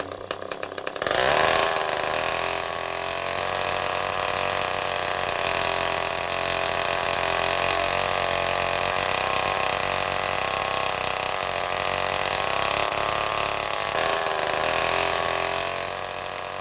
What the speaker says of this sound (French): Le motocorde est construit à partir d'une tronçonneuse bricolée.